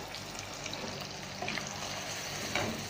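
Masala okra with fresh red chilies and curry leaves is stirred in a pan, giving a soft, faint sizzle with occasional light scrapes and clinks of a spoon.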